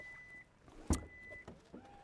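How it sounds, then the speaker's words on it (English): The electronic tailgate of a Genesis GV60 electric car operates with a faint motorized hum and whine, broken by a sharp mechanical clunk and a few quieter clicks, fairly close and low in level. "electronic tailgate"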